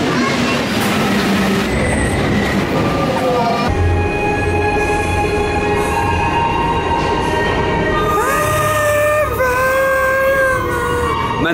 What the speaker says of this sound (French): pas le RER, le Transilien, je crois que ça s'appelle comme ça